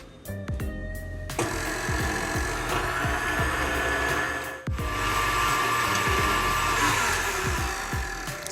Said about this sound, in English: I'm going to whisk this until you see it starts to foam.